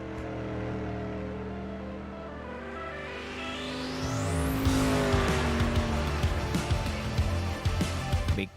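Race car engine in a Supreme Sim Racing dirt street stock on Volusia's track during a qualifying lap in a sim racing game, droning steadily then rising to a loud rev with tire squeal and skidding as it comes off the corner.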